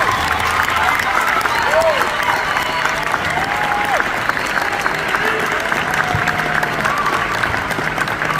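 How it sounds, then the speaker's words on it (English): Dense, steady applause fills a hall as an audience claps for high school orchestra students at a school district orchestra festival, loud and unbroken throughout with faint voices mixed in. "Please give them a big round of applause just for being here."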